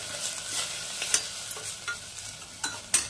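Grated coconut is stirred into potato kurma frying in a pan, with a low sizzle running underneath and a series of sharp scraping and clinking strokes from the spoon at irregular intervals, close up and without speech.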